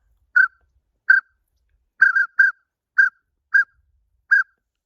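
Matt Pierce adjustable pintail duck whistle blown at a high setting: seven short, clear, trilling whistle notes, some in quick pairs, loud and close against silence.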